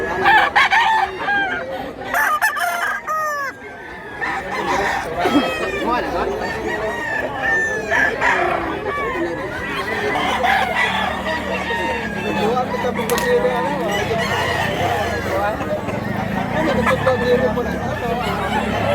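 Roosters crow repeatedly and nearby, with hens clucking around them and a loud babble of people chatting throughout, at a gamecock sale.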